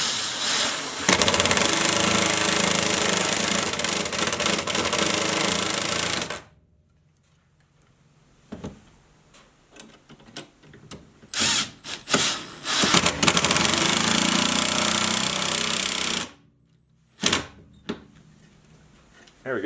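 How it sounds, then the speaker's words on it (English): Makita impact wrench drives a screw into an electrical box with a long loud burst of rapid hammering whir, then scattered short bursts and quiet pauses, with brief talk in between. "I'm going to go ahead and drill that in"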